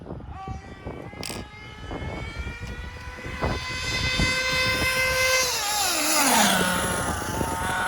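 A Losi Truggy RC car's nitro engine, fitted with a new fuel tank, clutch bearings and exhaust, runs with a loud, high buzzing whine that climbs, holds, then sweeps downward as the revs change, close up.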